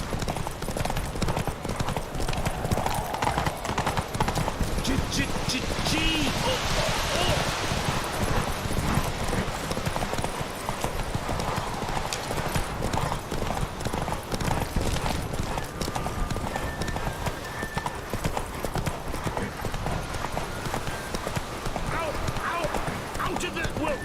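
The horse Roach gallops in The Witcher 3, steady clip-clop of hooves running throughout under wind and frequent shouting voices.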